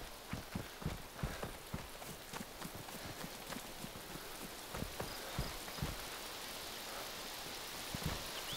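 Steady rain patters on a surface in the video game DayZ Standalone, with scattered louder drops and light tapping, moderately quiet and continuous.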